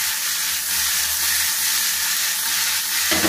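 Chopped cluster beans being stirred and fried in a pan, a steady close hiss of sizzling oil with faint scraping, ending in a brief louder clatter.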